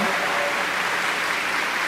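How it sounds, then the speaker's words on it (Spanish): A crowd claps in a dense, steady burst of applause throughout, fairly loud and unbroken. "Eso merece un fuerte aplauso"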